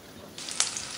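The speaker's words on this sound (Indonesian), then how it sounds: "Kita siapkan wajan, tambahkan minyak, nggak usah banyak-banyak, sedikit aja. Masukkan terlebih dahulu bawang bombaynya." Onion and scallion sauté in a little oil in a wok, a soft sizzle that suddenly swells into brighter frying with a sharp crackle, fairly quiet and close, with no talk.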